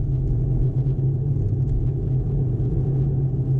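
A car engine rumbles steadily from inside the cabin during a driving lesson on busy main roads, a low, even drone that swells only slightly as more gas is given.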